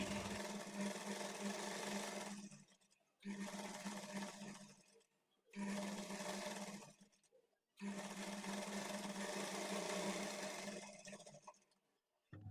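Sewing machine stitching along the edge of silk blouse cloth, running in several close, steady bursts of a few seconds each, separated by brief pauses, with no talking.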